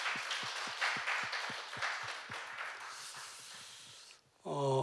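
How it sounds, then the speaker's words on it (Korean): Church congregation applauding together during a Sunday worship service, a dense burst of many hands clapping in steady rhythm that gradually thins out, ending with a short musical tone. "우리 하나님께 영광의 박수 올려드리시겠습니다."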